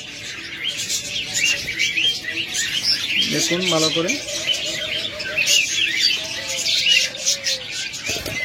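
Red-eyed albino budgerigars kept as a pair for sale among cockatiels, lovebirds and doves chatter in a continuous high twittering, with a brief lower coo midway and someone talking over the birds.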